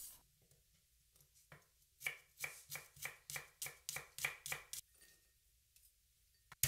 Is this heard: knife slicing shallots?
yes